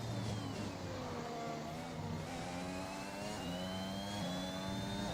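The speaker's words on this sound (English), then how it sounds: "I just love the Honda engine." A Honda-powered F1 car in F1 2021 screams along in a slipstream, its high engine whine gliding steadily upward with shifting harmonics, continuous and fairly loud with no voices.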